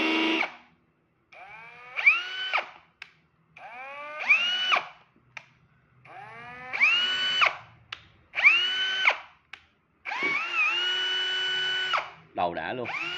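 Brushless 18V cordless drill run in hammer mode, several loud whirring bursts that rise in pitch and hold, separated by short pauses, with faint background sounds between runs.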